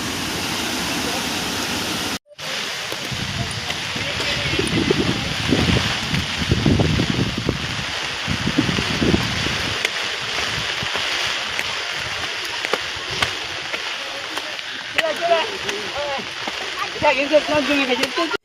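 Strong wind gusts across a waterfall viewpoint in Meghalaya in the rain, a steady broadband rush with heavier low buffeting in the middle that eases into a continuous roar.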